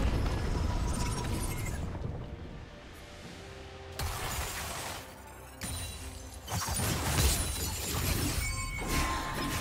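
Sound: turret destroyed in video game League of Legends

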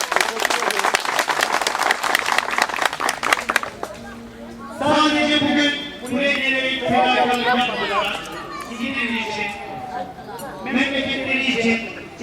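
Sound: crowd applause at a picnic

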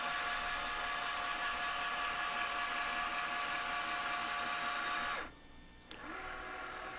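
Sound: Transmotec linear actuator extending, driven by QuickSilver controller

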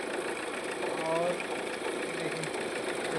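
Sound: Mahindra XUV500 engine idling with rattling vibration

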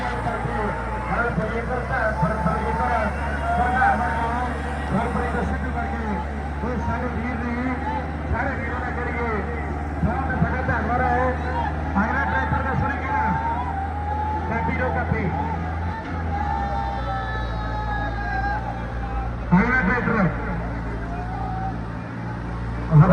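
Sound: Farmtrac 6065 tractor engine pulling an 18-foot trailer

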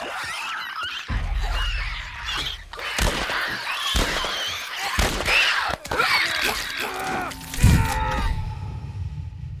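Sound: Clicker infected creatures clicking and groaning, from The Last of Us video game

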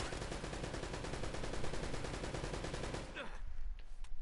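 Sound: gunshots from a video game (Uncharted: Drake's Fortune)

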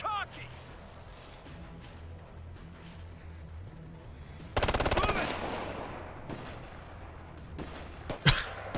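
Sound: gunfire in video game Ghost Recon Future Soldier

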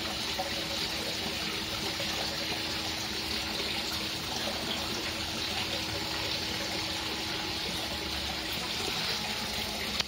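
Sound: small waterfall splashing into fish pond

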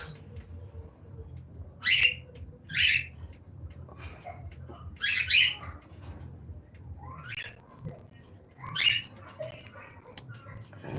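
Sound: caged birds on a bird farm

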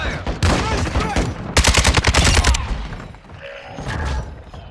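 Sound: gunfire from the video game Call of Duty: Modern Warfare II

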